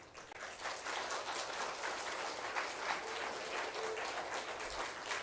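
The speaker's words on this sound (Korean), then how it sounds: "나오실 때 우리 큰 박수로 환영해 주시기 바랍니다." Church congregation at a Sunday service welcomes the pastor with loud, dense applause that keeps up evenly from start to finish with no voices.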